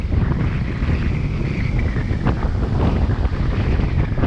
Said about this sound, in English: I've never seen it blowing this hard out here.